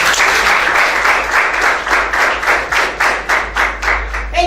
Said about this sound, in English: That thunderous clap came from students drawn from Modern Training Institute's Accra Road here in Uyo